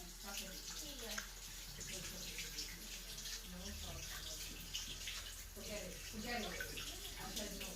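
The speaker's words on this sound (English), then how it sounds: "Rinse it properly." Running tap water rinses hands in a home kitchen while making puff puff, a faint steady flow with people talking quietly over it.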